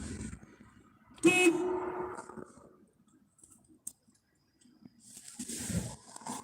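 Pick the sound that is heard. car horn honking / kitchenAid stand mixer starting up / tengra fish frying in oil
car horn honking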